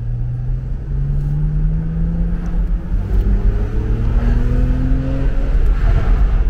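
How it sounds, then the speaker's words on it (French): A BMW Z4 six-cylinder engine and exhaust pulling steadily, loud and close, its drone climbing in pitch as the car accelerates through a gear over several seconds, with no voices. "on entend un peu plus l'échappement et le bruit sympa que fait le 6 cylindres"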